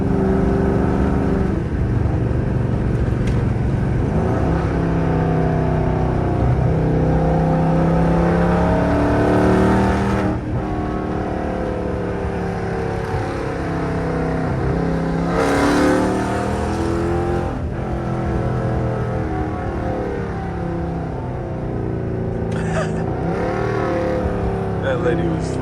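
A 400+ hp Dodge Charger R/T drives along with a deep, loud engine drone that rises and falls as it revs, heard from inside the car while people talk over it.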